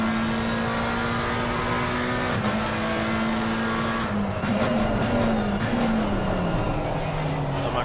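A GT3 race car accelerates uphill at Circuit of the Americas during a championship race, its loud, steady engine drone holding a constant pitch, then rising and wavering as it gets back on the power.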